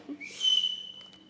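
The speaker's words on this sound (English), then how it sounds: "Yay, wolf whistle." A single sharp wolf whistle from an audience at a book launch, a rising then held high tone, loud and near, followed by faint crowd noise.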